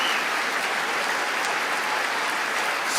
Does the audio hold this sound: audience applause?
yes